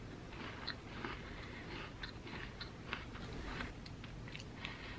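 Close, steady crunching and chewing of a salty Ritz cracker topped with Romanoff black lumpfish caviar, a continuous run of small crisp bites with no talk.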